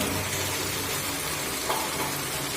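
Chicken pieces hitting hot oil in a pan over a high flame for dhaba-style chilli chicken, a steady close sizzle with faint stirring scrapes.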